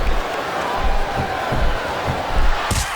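Wrestling arena crowd in WWE SmackDown vs Raw 2007 fills the clip with a steady roar, rhythmic swells like a chant pulsing about every half second, and a brief sharp burst near the end.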